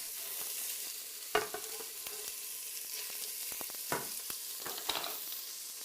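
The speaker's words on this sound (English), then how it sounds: "We'll sear the meat in 2 batches for a good crust and rich roasted flavors." Beef sears in a hot pot with a steady close sizzle, broken by several sharp scraping stirs and clatters. No one speaks.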